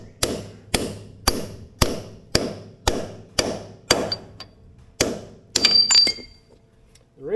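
A hammer drives parts into a backhoe axle with about ten evenly spaced, ringing metal blows, followed by a brief jangle of metal.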